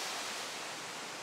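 A waterfall in Slovenia roars as a steady, dense wash of rushing water, loud and close, with no voices over it.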